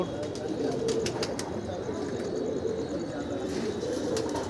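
Racing pigeons on a practice day give soft, low repeated coos against a steady outdoor background, with faint wing flutters now and then.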